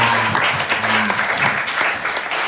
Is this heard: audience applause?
yes